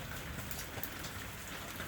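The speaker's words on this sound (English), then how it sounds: "falls this quiet, persistent rain" Quiet, persistent rain falls steadily at night, a soft, even hiss of drops on surfaces with no talk and no change in intensity throughout.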